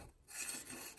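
A rag rubs across a ceramic cooktop in one brief, soft, hissing swipe, heard up close and alone.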